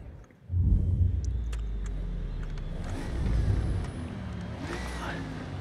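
A race car engine in Forza Motorsport roars up at the start of a race, with a loud, steady low rumble that swells midway and then settles, a voice briefly heard underneath.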